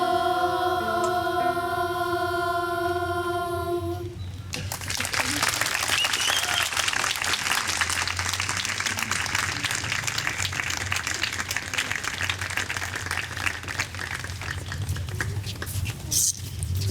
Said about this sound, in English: How about another round of applause for our Latimer Lane singers?